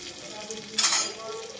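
Ginger and garlic sizzle and hiss steadily in a pan, with a louder burst of frying as they are stirred midway, close and clear with no talking.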